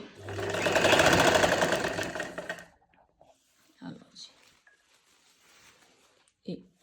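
Sewing machine stitching a finishing strip onto a dupatta runs loud and steady for nearly three seconds, then stops, leaving faint handling clicks and rustles of the fabric.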